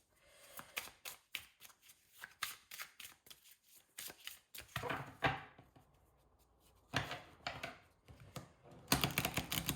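Oracle card deck with matte-finish cards being shuffled by hand: a run of dry, rapid riffling and flicking bursts, close and fairly quiet, with short pauses between bursts and a louder flurry at the end.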